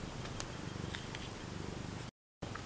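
A black cat named Shadow purrs close and steady, a soft continuous rumble with faint rustles and a brief gap near the end, no talk over it.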